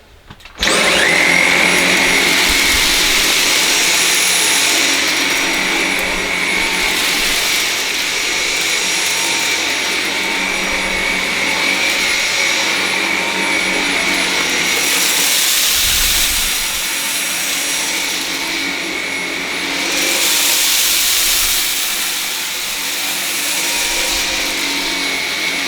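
Close, steady high-pitched whine of a Dyson V7 Motorhead cordless vacuum on maximum suction as it cleans rice from a wiry carpet, running continuously with slight swells as the head moves and with no talk.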